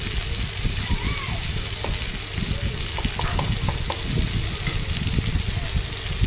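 Mushroom curry fries in a pan with a little cumin powder, making a steady, close sizzle broken by light scraping and clicking as it is stirred, with a faint voice now and then.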